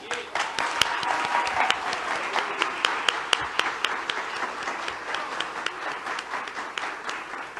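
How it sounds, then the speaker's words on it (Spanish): Crowd applause at a Dominican beer launch event for República La Tuya, dense steady clapping with sharp individual claps standing out, loud and continuous throughout. "quiero un aplauso"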